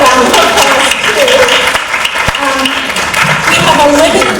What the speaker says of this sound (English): You can give that a round of applause too.